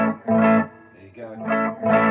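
Electric guitar played through a Boss SD-1 Super Overdrive pedal with reverb, two hard-picked chords that break up into gritty, sustained distortion with a short gap between them.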